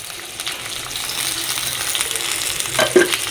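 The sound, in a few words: stirring frying cauliflower in a pan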